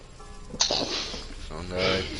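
A single sharp sneeze bursts out over ongoing speech in a video game session, loud and close, followed by continued talking.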